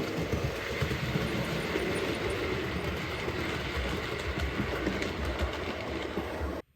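A model train runs steadily along its track behind a mail train, producing a continuous close rumble with faint rhythmic clicking that holds evenly before cutting off abruptly at the end.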